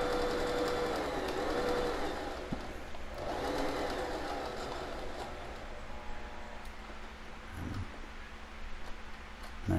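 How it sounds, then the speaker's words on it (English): Sewing machine stitching the front and back layers of a fabric face mask together with the inner lining, a steady close whir running throughout against a dense background hum. "She's sewing the 2, the front and the back together with the inner lining inside"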